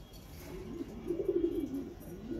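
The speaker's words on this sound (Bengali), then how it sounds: "আপনারা এই মুহূর্তে যেই কবুতরগুলো দেখতেছেন এগুলো মিলিটারি কবুতর।" A military pigeon gives a soft, low rolling coo that swells and fades over a couple of seconds, faint and close against quiet room noise.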